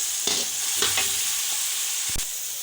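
Peas and carrots sizzle steadily in a hot pan for fried rice, with a few soft stirring scrapes and a clink near the end over the constant hiss.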